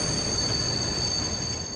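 A train brakes with automatic brakes, a sustained high metallic squeal of wheels on rail over a dense, steady rumble, loud and continuous.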